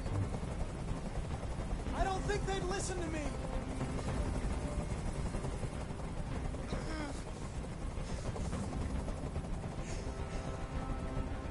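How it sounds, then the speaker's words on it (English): Rotor thump of a helicopter hovering overhead in the video game Detroit: Become Human, a constant heavy drone under someone speaking, with occasional sharper electronic stings cutting through. "Tell that helicopter to get out of here."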